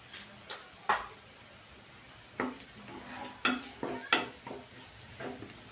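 Spices such as turmeric, red chilli powder, Maggi masala and coriander powder being stirred and sautéed in a pan, a soft frying hiss broken by scattered clinks and scrapes of a spoon against the pan.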